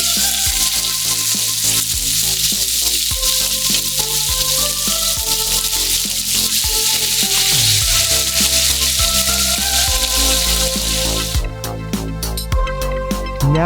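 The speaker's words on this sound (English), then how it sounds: "Now we're going to put the steak in the cast iron pan." A steak searing in a hot cast iron pan, a steady loud sizzle running throughout with crackling pops, and a sharper rattling burst near the end.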